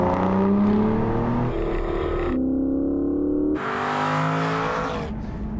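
An Aston Martin Virage grand tourer engine revving hard, loud and close, with a rising and falling tone that shifts through several pitch steps as the car pulls away.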